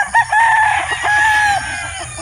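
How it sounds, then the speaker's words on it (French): Loud fighting roosters crowing close by at a gamecock breeding farm in the Philippines, one long drawn-out call overlapping another, with clucking underneath. "Ça c'est un élevage de coqs mais pour le combat."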